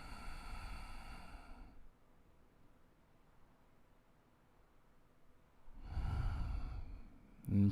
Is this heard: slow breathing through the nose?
yes